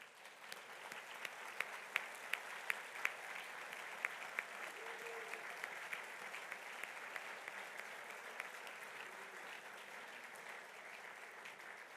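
Audience at a college alumni awards ceremony applauding former honorees, a steady wash of many hands clapping at moderate volume that holds evenly throughout, with a few sharper individual claps standing out.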